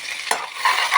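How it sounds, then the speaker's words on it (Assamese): Cashews and raisins frying in a hot pan for a vegetarian dish give a steady, bright sizzle that holds through the whole moment, with a brief scrape of stirring partway in. "গৰম হ'ল আৰু এইখিনি এতিয়া মই কাজু খিচমিচ তেনেকৈ পিচি পেলাই গোটেইখিনি দি দিছোঁ"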